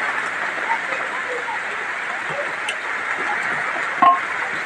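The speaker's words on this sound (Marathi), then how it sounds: "बारिश पडते बघा, पाऊस पडते, पाऊस पडते बघा" Steady, even hiss of rain falling, with a few faint ticks and one brief sharper knock near the end.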